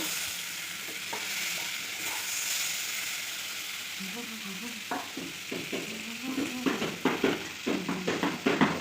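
Water poured into a hot pan of frying food sets off a loud sizzle and crackle, with bursts of stirring and scraping growing busier toward the end, close up and with no talk.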